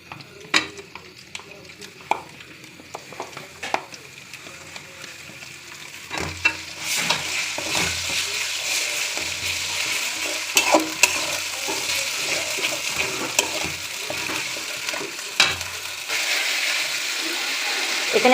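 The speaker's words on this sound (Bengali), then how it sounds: "এখানে আদা বাটা এবং বাদাম বাটা বেশ কিছুক্ষণ আমি ভেজে নিয়েছি।" Ginger and almond paste sizzles and fries in a pan, with a spoon scraping and stirring through it now and then and the frying growing louder partway through.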